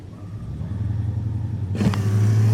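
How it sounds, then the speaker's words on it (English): A car windshield wiper motor starts up with a sudden low hum and whir that keeps running steadily to the end, heard close and alone after a quiet idle background. "Wiper motor makes a pretty cool sound."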